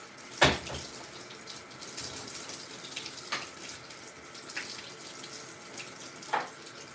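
Tap water runs steadily into a pot as rice is rinsed, with a few sharp clinks and splashes scattered through the flow.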